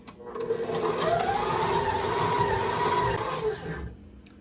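Batter for an apple gingerbread cake being mixed in a bowl, a steady whirring and scraping that rises and holds for a few seconds before trailing off, with no talking.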